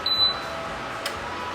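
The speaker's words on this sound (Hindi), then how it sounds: "आफ्टर 6 मिनट्स इसने खुद ही बजर बीप किया।" Prestige induction cooktop buzzer giving a single short, high beep at the start, then a quiet background hum.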